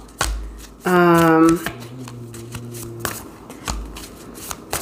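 Tarot cards being shuffled by hand, a quick riffle burst of crisp flicking followed by a soft cascading settle, close and clear with quiet room sound around it.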